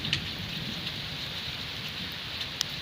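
Heavy monsoon rain pouring down outdoors, a dense, steady hiss of water on surfaces with an occasional sharper drop, continuous and fairly close, no voices.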